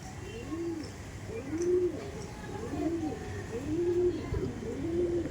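Pigeons in a loft coo in a steady series of five or six soft, rounded calls at a regular rhythm, close and clear over faint background noise.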